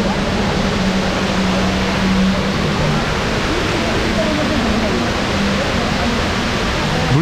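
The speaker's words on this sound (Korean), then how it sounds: "물소리가 참 시원해요." Water from an artificial indoor waterfall in Dubai Mall pours with a steady, loud hiss and roar, while faint voices and mall noise sit beneath it.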